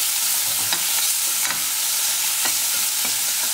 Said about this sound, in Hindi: अब ये अनियन को हम सेक लेंगे, फुल फ्लेम पे हम यहाँ पे मसाले को सेक रहे हैं।